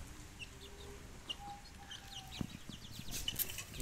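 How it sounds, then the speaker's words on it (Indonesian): Scattered soft clucks and chirps from three-month-old chickens against a low rumbling background, fairly quiet, growing a bit busier toward the end. "update perkembangan ayam. Ayam usia 3 bulan."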